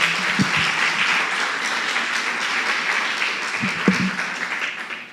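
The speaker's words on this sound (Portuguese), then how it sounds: "a igreja receba com uma calorosa salva de palmas" Steady, dense applause from a church congregation fills the room, sustained evenly without pause, with a couple of faint low thumps underneath.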